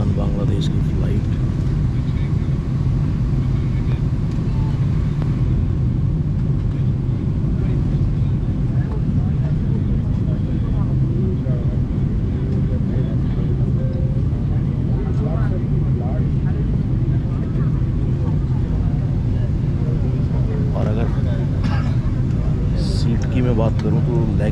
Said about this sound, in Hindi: कुछ इस तरह की है विमान बांग्लादेश की फ़्लाइट।